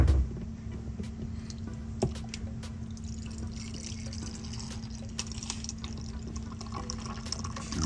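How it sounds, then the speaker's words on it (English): Juice pouring into a glass over ice, with a faint trickling and occasional clinks, under a steady low hum; no one speaks. "I'm just going to go ahead and pour."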